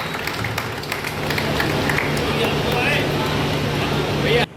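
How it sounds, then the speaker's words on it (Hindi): At an honoring ceremony in Varanasi, an audience claps to welcome the honoree, with scattered clapping blending into a crowd murmur and voices over it. "आप लोगों की तालियों द्वारा इनका स्वागत किया जाए।"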